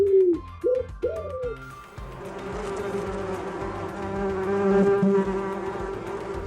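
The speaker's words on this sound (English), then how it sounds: "Bumblebee." A few soft cooing notes, then a bumblebee buzzes steadily and close by, droning without pause.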